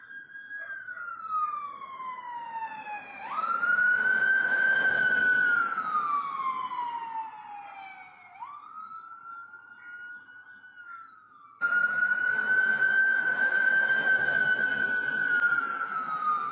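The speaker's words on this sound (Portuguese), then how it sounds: "podemos escutar uma ambulância" An ambulance siren wails loudly and nearby in long rising and falling sweeps. It cuts out briefly and then returns at full strength, with no talk over it.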